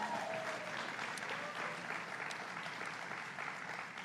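Rally crowd in the Bronx applauding Governor Cuomo at a 'Drive for $15' stop, a steady wash of clapping that sounds somewhat distant and subdued, lasting throughout with no break.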